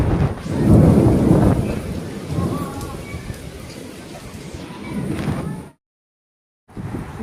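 Thunderstorm with heavy rain during a power cut at home, a loud rumbling roar with steady downpour, swelling early then continuing under a voice before a brief silent gap.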